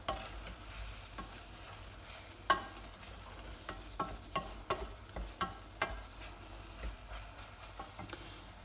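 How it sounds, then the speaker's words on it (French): A spoon stirs sugar into apple compote, making a series of soft, irregular scraping clicks against the pot over a faint simmering sizzle. "On va mélanger pour que le sucre s'incorpore comme il faut."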